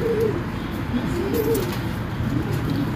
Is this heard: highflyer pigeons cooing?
yes